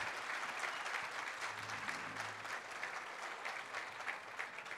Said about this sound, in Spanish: ¿Se puede escuchar con más fuerza ese aplauso?